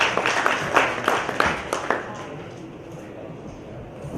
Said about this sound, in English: So I'd like you to introduce Steve with a round of applause.